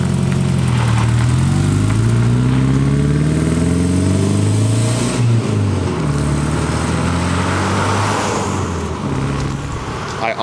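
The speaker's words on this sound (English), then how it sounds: "I honestly cannot believe how good that 4Runner runs." A Toyota 4Runner with a swapped-in 3RZ four-cylinder engine revs hard and steadily, loud and close, its pitch rising and falling through several throttle blips without any talk over it.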